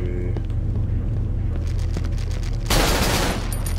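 Gunfire in the horror game Cry of Fear, a sustained burst of shots that swells loud near the end of the stretch over a low droning backdrop, with no voices.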